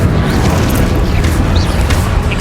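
Incendio fire spell cast in Hogwarts Legacy, a loud, dense rushing roar of flame that holds steady without a break.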